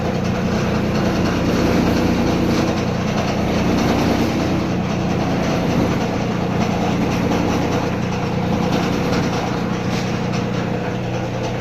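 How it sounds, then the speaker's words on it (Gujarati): A steady mechanical drone of a machine running in a glass-box workshop, loud and continuous with a constant low hum and broadband rumble, no talk over it. "અવાજ નહીં આવે કારણ કે મશીન ચાલુ છે"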